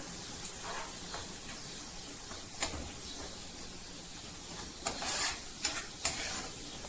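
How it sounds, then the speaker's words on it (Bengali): Chicken with ginger-garlic paste sizzles in a pan for a milk chicken bhuna, under a steady hiss, while a spoon stirs and scrapes in a few brief clatters near the end, with no talking. "একসাথে নেড়ে ছেড়ে ভালো করে বেজে নেব"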